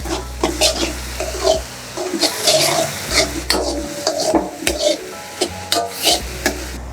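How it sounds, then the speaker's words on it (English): Black bean paste cooking in a pan for vegan mapo tofu, stirred with a utensil: scraping strokes and a low sizzle, with scattered clatters against the pan, up close with a steady background hum. "give this a really good stir because we want to cook those pastes out a bit more as well."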